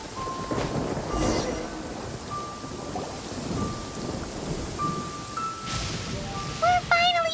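Rain and rumbling thunder in the video game Genshin Impact, a steady rainfall wash with low rolls of thunder, overlaid by short tonal game interface chimes and a brief rising musical sound at the end.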